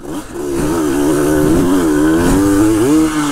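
A Yamaha DT-180 motorcycle on a dirt trail revs loud and close, its buzzing two-stroke engine rising and falling with throttle changes.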